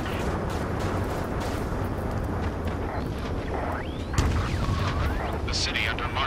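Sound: gunfire and jets in Ace Combat 7 video game

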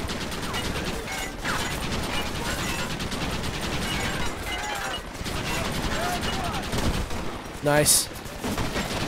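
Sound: minigun firing in Red Dead Redemption video game

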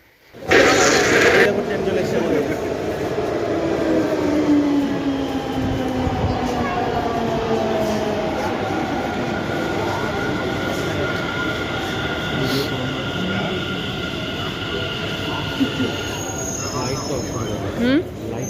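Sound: inside a moving metro train

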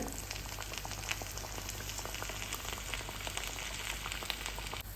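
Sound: vadiyan frying in hot oil

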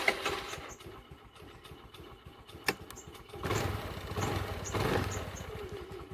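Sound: scooter engine running

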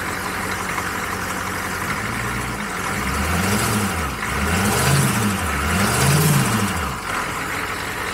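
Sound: diesel engine running

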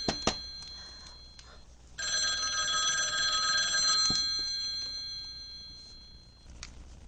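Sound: telephone bell ringing

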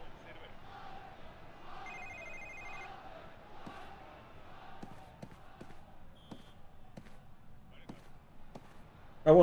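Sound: telephone ringing in James Bond Quantum of Solace video game

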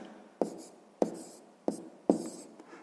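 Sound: writing down numbers

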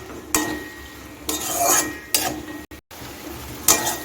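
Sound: sautéing spice paste with potatoes and onions

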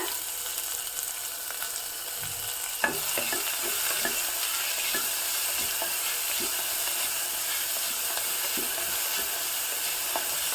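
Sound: chopped onions frying in a pan for baingan bharta

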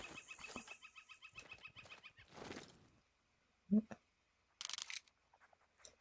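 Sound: wild turkeys in video game theHunter: Call of the Wild

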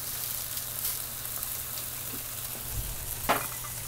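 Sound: onions and garlic sautéing in olive oil

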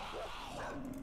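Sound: dog barking and growling in the video game 7 Days to Die

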